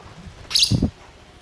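A pet lovebird gives a quick pair of sharp chirps up close, brief and bright against a quiet indoor background.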